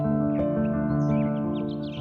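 A black crow caws in a Gujarati cartoon moral story, a single sustained, harsh call held over a loud steady tone, close and prominent.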